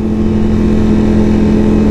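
A Ducati Panigale V4 track motorcycle's engine drones loud and steady while accelerating, a strong sustained tone with wind rush, alone without talk.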